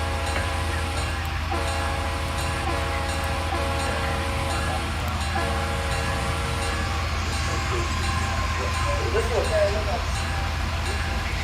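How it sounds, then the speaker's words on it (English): An Amtrak train passes in Kearney, Nebraska, a steady loud rumble with sustained horn tones sounding in repeated blasts over constant background noise. "I hear a train coming in Kearney, Nebraska right now."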